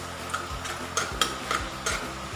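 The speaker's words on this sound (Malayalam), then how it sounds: "ഇനി ഞാനിതിലേക്ക് എള്ളിട്ട് കൊടുക്കുകയാണ്. എള്ളൊന്ന് ചൂടാക്കി എടുക്കാം." Sesame seeds roast in a hot pan, giving a soft, quiet hiss broken by a few light scraping stirs and faint ticking pops.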